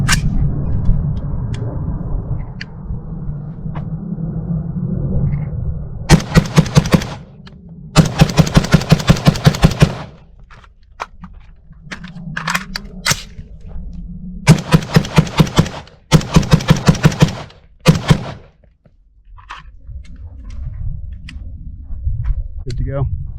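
Rapid semi-automatic rifle fire through a Tac-Con GT Mod 1 assisted reset trigger, loud close bursts of fast shots in several strings separated by short pauses, with a steady low rumble between them.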